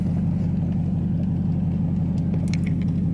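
Heavy road traffic heard from inside a moving car: a constant low engine and road rumble fills the cabin, steady and close, with a few faint higher clicks near the end and no talk.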